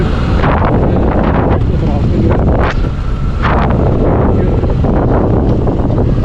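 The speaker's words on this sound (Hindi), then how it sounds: "ठंडी ठंडी हवा चल रही है" Steady, loud cold mountain wind buffets the microphone throughout, a constant rushing roar with a few sharper gusts sweeping through, at Burzil Top.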